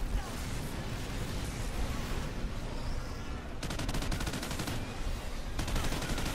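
Mortar fire and dense automatic gunfire in the video game Call of Duty: Ghosts Extinction form a constant, loud barrage of crackling shots and blasts. Rapid rattling bursts cut in partway through, with no clear pauses.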